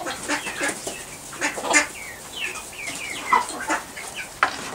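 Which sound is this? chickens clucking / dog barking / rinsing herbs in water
chickens clucking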